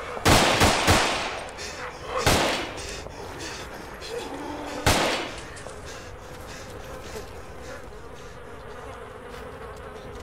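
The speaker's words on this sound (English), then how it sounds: "I'll shoot zombies with the AK then." AK rifle fire in ARMA 2 DayZ, shooting zombies: a quick burst of close, loud shots, then two more single bursts spaced a couple of seconds apart, fading into a quieter buzzing background.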